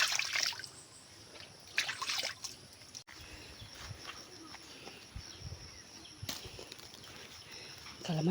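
Stream water trickles and splashes softly while someone washes in a creek, with intermittent louder splashes and a faint bird note against steady outdoor background.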